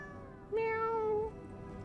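A cat meows once in the video game Lies of P, a single clear, drawn-out tonal call lasting under a second, close and alone over a quiet game background.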